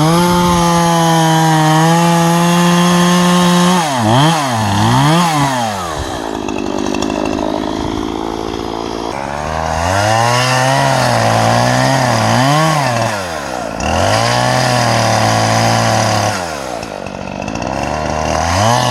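A chainsaw cuts up a dead tree near an off-grid shelter, loud and close, its engine droning, bogging down in the wood and revving back up across several cuts.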